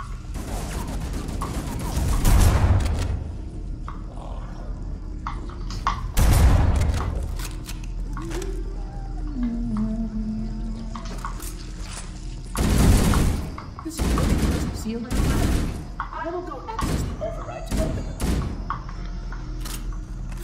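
Bursts of assault rifle fire in Halo: Combat Evolved come in several loud clusters, mixed with heavy thuds and booms of in-game combat over a steady background.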